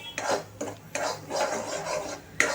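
A spoon stirs and scrapes khoa as it browns in a pan for coconut rice, giving repeated rough rasping strokes close up with a few sharp metallic knocks.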